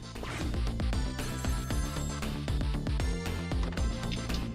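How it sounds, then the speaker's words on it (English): In the video game Ghost Trick, a telephone ring sounds amid loud, busy game music that fills the whole clip, the ringing partly masked by the dense melodic backing, with no talking. "Ah! The phone!"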